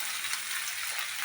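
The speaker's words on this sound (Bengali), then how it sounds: "পেঁয়াজটা দিয়ে দেবেন, দিয়ে পেঁয়াজটাকে একটু ফ্রাই হতে টাইম দেবেন" Onion frying in a pan for a bitter gourd and potato mash, giving a steady, close hiss of sizzling with no pauses and no voices.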